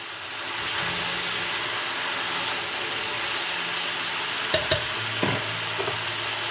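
Carrots, turnip and lamb for a spring navarin brown in a pan with a steady close sizzle and frying hiss, joined near the end by a few clattering stirs and knocks.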